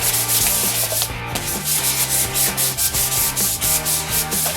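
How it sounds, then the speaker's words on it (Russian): A coconut shell pen stand being sanded, a loud continuous abrasive rubbing with steady back-and-forth strokes close up, no talk. "Так, ну допустим, дальше шлифуем."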